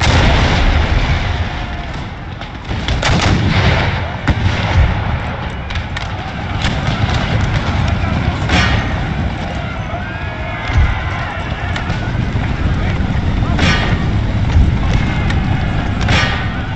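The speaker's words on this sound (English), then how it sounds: "And start shooting." Gunfire and artillery from a battle in the PC strategy game Empire: Total War, the Battle of Quebec: dense, continuous musket crackle with heavy booming shots scattered throughout, loud and sustained with no pauses.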